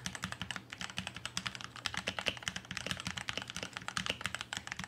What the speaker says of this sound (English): AZIO is using premium materials in the construction of this keyboard, and it sounds really great to type on